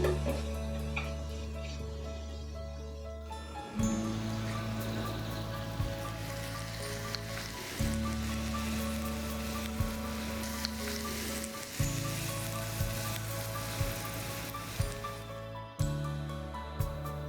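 Hot tempering for Kerala coconut chutney is poured in and sizzles with a steady, gentle crackle and hiss, underlaid by a low background hum that shifts at a few points.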